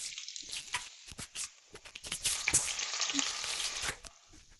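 Ginger and garlic fry in hot oil, crackling and sizzling in uneven bursts as they are stirred, the spitting growing denser and louder midway, with no talking.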